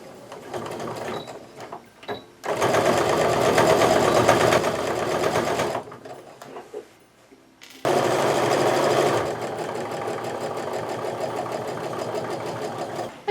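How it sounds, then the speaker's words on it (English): A sewing machine stitches a canvas apron pocket with bias binding in two loud, steady bursts of running stitches, separated by a quieter pause with faint handling noise. "I'm going to repeat on the other side to stitch down the line from the rest"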